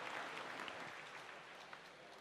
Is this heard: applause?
yes